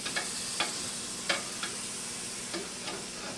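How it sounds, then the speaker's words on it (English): Jalapenos roasting on an outdoor grill give off a steady, close sizzling hiss broken by half a dozen sharp pops and crackles at irregular intervals, with no voices. "Also put me some jalapenos on here to roast"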